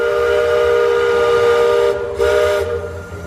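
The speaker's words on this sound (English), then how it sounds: "I thought I heard a train whistle, you know what that could have been? A steamboat whistle." A loud, sustained steamboat whistle at Magic Kingdom blows with a rich chord-like tone, briefly breaking off and resuming before fading out.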